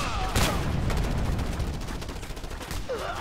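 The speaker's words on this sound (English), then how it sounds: "they shot me mid-air" Enemy gunfire in Just Cause 2 rattles in rapid, dense bursts, loud and sustained, with brief game voice fragments at the start and end.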